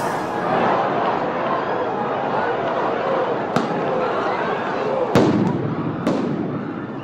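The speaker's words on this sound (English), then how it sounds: "police officers, and members of the National Guard, firing tear gas and rubber bullets on hundreds of people there" Police fire tear gas and rubber bullets at hundreds of protesters, heard as a dense crowd roar broken by several sharp, loud bangs and pops at a street protest.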